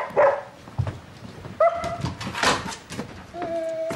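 A dog gives a few short barks and high whimpers indoors at night, close by. The sounds come in bursts over a rustling background.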